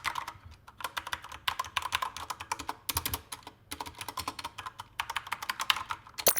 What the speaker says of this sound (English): Here's a sound test of the K70 RGB TKL.